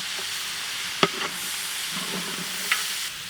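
Carrot, baby corn and green chilies are stirred in a hot pan for a traditional Irish lamb stew, with a steady sizzling hiss and a few light utensil clinks against the pan.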